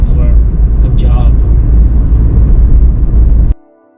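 A car drives along a good-quality road in Goa, with steady low road rumble and engine noise throughout and a person talking over it, ending abruptly.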